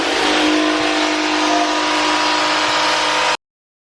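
A car pulls away and drives on, its engine a steady, close, fairly loud hum with road noise for about three seconds before it cuts off abruptly.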